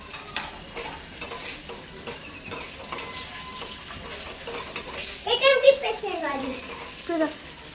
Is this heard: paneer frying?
yes